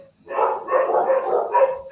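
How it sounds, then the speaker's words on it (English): A dog barks several times in quick succession, close and fairly loud, the barks running together in a short burst. "That's my dog barking in the background."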